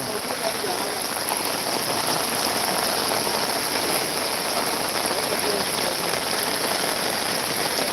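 Heavy rain pours down steadily in Ludhiana, a dense, even hiss of drops drumming on surfaces throughout, close and loud with no pauses.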